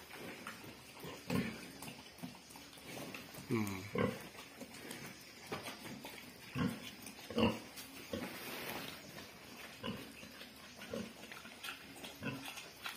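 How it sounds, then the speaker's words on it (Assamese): A sow on a pig farm grunts and oinks in short, low bursts, close to the microphone, with faint farm background noise between the calls. "মই গাহৰিজনী এবাৰ দেখাই দিছো আপোনালোকক, চাওক এজনী গাহৰিজনী"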